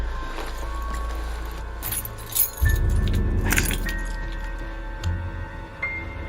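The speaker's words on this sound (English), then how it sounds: "Why don't you give me your car keys?" Car keys jingle and clink close by in short bursts, with metallic rattling over a low, steady engine-like hum.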